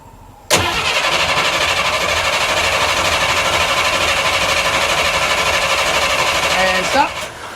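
The engine of a 1939 Burro crane cranks and catches, then runs loud and steady with a rough, even drone for over six seconds before being shut off, with voices faintly audible at the end.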